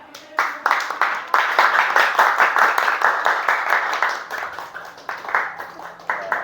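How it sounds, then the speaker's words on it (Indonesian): A classroom audience claps together in a sustained, dense round of applause lasting several seconds, loud and close, starting abruptly and slowly thinning toward the end, with no voices. "kita beri aplaus dulu semuanya"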